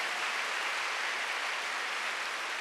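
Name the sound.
congregation applauding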